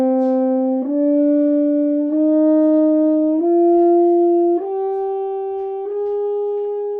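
French horn playing a slow series of sustained notes that step gradually upward, each note shaped by pulsed breath rather than a smooth legato line, with brief dips between the steps. The tone is clear and close, with no talking.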